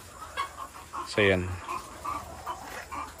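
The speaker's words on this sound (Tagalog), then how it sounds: "Marami na ako ditong mga native na manok." Native chickens on a small farm cluck and call, with one louder drawn-out squawk standing out over softer scattered clucks, while someone speaks briefly.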